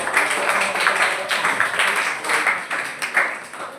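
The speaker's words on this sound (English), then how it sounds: "Please give us a round of applause" A seminar audience claps in a steady, moderately loud patter of many hands, with faint voices underneath.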